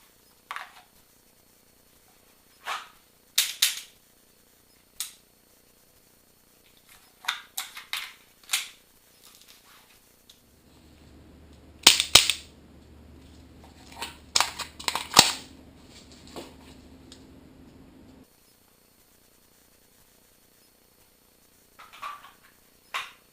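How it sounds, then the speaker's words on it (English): A handgun tactical reload: a string of sharp, close metallic clicks and clacks from the magazine and slide, with a brief rustling stretch in the middle and quiet gaps between. "That is the tactical reload, and it goes like this."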